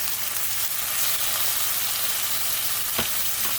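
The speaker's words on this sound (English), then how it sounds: "And I'm gonna add the water. Add the water in here a little bit. Make the noodles more soft." Pad Thai rice noodles sizzle and fry steadily in a hot pan as a little water is added, a loud close continuous hiss with a brief sharp crackle near the end.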